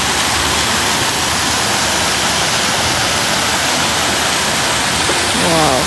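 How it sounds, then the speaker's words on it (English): A waterfall at an American zoo roars in a steady, loud, close wash of rushing water that fills the whole stretch. "Yeah, I'm going to show you this waterfall."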